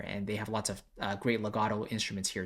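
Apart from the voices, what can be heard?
No distinct noise like a dog, phone or traffic.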